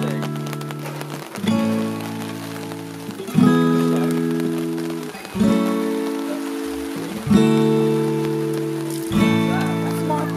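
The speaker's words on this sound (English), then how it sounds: "Look at all that rain." Rain falls outdoors on a Byron Bay road trip, a steady patter on a surface beneath repeating loud, droning tonal swells.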